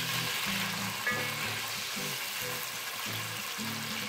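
Onions sizzle in hot oil in a pan, a steady close-up crackling hiss with soft stirring bumps underneath and no talking.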